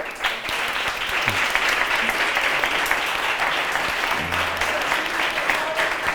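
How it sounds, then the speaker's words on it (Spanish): Sustained, dense applause from an audience at a literary autumn-festival meeting with author Fermín Cabanillas, steady and loud across the whole stretch with a few faint voices mixed in. "darle las gracias a Fermín, le vamos a dar un aplauso súper enorme"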